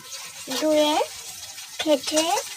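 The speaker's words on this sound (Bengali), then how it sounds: "এই যে মাছগুলো ফ্রাই করতে বসিয়ে দিয়েছি। মাছগুলো ফ্রাই হয়ে যাচ্ছে।" Baush fish pieces rubbed with turmeric, salt and chili fry in a pan with a steady hiss, while a voice speaks over it in two short bursts.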